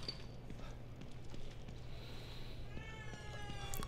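A cat meows in the Evil Within 2 horror game, its thin rising cries arriving late and fairly faint over a steady low background hum.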